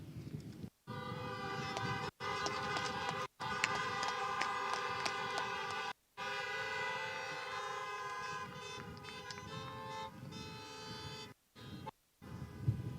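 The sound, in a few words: car horns honking at graduation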